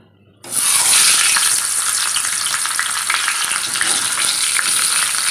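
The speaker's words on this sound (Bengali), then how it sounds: "তেল গরম হয়ে গেছে, এবার মাথাটা দিয়ে দেব।" A fish head rubbed with salt and turmeric drops into hot oil and breaks into a loud, steady sizzle that keeps crackling and spitting without pause after a brief quiet start.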